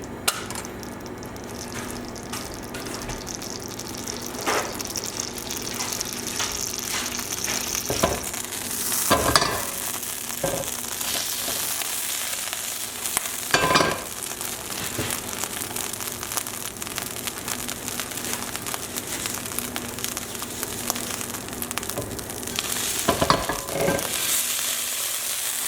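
Butter melts and sizzles in a pan while cooking panko-crusted cod, a steady soft frying crackle running throughout with occasional louder stirring scrapes and clicks of a utensil against the pan.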